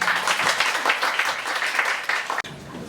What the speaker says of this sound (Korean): 즐겁게 크게 박수로